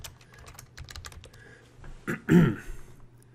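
Quick bursts of keystrokes on a computer keyboard, close and fairly faint, stop briefly before a louder cough-like throat sound near the end.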